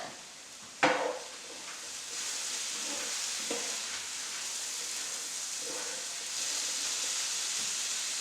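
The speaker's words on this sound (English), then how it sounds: "I'm going to give the dish a stir right before I add this" Stirring a browned, fully cooked ground-meat dish in a hot pan for taco-style filling: a sharp utensil scrape starts a steady close sizzle, with a few more scrapes and clinks against the pan.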